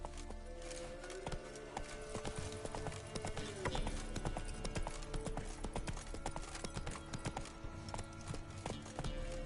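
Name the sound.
horse galloping in video game The Witcher 3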